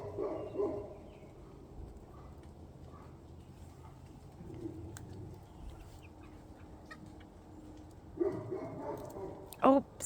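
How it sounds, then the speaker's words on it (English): A dog a few doors down barks in short bursts, at a distance, on a quiet, rainy afternoon, with birds calling and faint outdoor ambience between the barks. "A dog a few doors down just barks like that."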